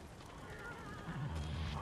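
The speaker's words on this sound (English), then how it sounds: "Chill out, horse." A horse neighs and whinnies in the video game Ghost of Tsushima, a short close snort and whinny with faint hoof clops, heard alone without talk.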